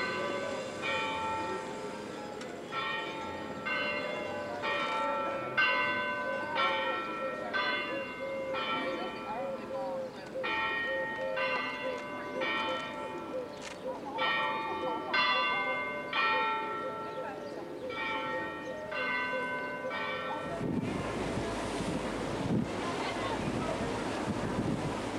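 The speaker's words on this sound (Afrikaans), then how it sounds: "waar ons kort voor ons vertrek na die gelui van die kerkklokke geluister het" Church bells ringing on the Greek island of Aegina, a repeating sequence of clear metallic peals carried at a distance over steady wind and sea noise, then giving way to louder rushing wind near the end.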